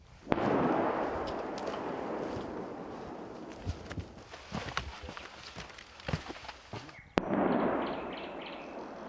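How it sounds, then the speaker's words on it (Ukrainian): Nearby explosions from mortar and artillery fire hit frontline positions around Chasiv Yar, heard from inside a reinforced dugout. Several sharp, irregular blasts and cracks sound over a rumbling background, with louder sustained roars at the start and end. "Під міцним перекриттям бліндажа Одесит Олег навіть не зважає на близькі вибухи."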